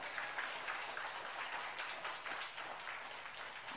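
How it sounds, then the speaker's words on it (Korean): A church congregation applauds in thanks during a sermon, giving a faint but steady, continuous patter of many hands clapping with no speech over it. "우리 하나님께 감사의 박수 올려드리면 어떨까요?"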